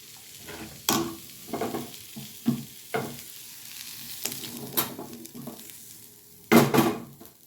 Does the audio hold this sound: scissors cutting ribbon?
no